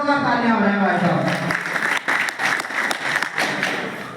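An audience at a business meeting breaks into applause, building from a voice into a dense stretch of many hands clapping that carries on steadily to the end.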